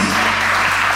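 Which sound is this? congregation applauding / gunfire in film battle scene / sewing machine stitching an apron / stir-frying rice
congregation applauding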